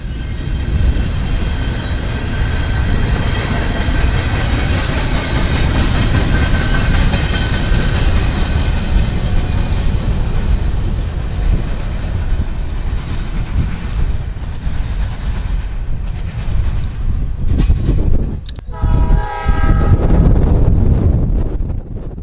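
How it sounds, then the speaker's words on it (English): A freight train carrying export diesel locomotives passes, pulled by CW40-9 number 9935 at a winter trackside, as a steady rumbling roar under heavy wind buffeting the microphone, with a brief horn-like tone near the end. "this trainload of export diesel locomotives being pulled by CW40-9 number 9935"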